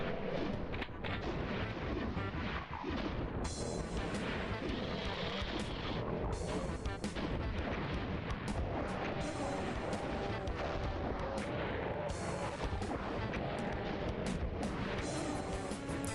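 Rocket launcher blasts and explosions in the video game The Ultimate DOOM, repeated booming bursts over dense continuous game noise at moderate loudness, no speech.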